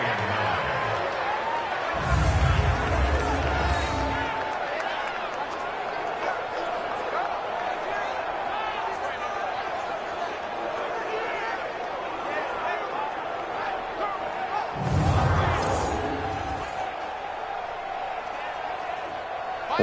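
A stadium crowd in a Madden Pro Bowl football game swells in two loud surges ahead of a big third down. A commentator talks steadily throughout, with the crowd roar sitting underneath.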